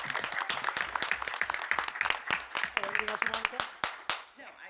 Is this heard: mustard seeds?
no